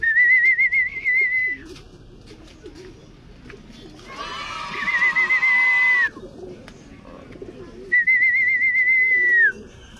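Racing pigeons coming home to their loft, with bird calls and repeated sharp whistles over a burst of rustling flutter in the middle, moderately close outdoors.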